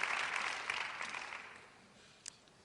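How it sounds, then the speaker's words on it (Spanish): Applause from an audience at a business gathering, a broad clapping wash that is fairly loud at first and then fades away, ending with one faint sharp clap. "pido un fuerte aplauso"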